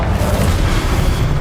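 Confringo spell explosion from Hogwarts Legacy, a loud, deep booming blast rolling continuously with rumbling low-end throughout.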